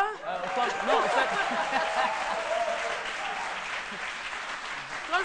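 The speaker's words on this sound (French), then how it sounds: "quand ils applaudissent comme ça, on a l'impression que... on est dans la forêt?" A live studio audience applauds during a midday TV talk show on RTI 1: dense, sustained clapping close up, fading slightly toward the end, with a few chuckles mixed in.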